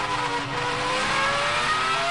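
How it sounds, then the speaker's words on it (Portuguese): Ferrari Formula 1 car engine at the Australian Grand Prix, a loud continuous high-pitched wail with rising harmonics as it accelerates past, sustained throughout without talk. "Tá aí matando saudade do som do motor da Ferrari."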